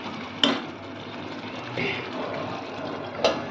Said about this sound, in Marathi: आता मी यावर ठेवते झाकण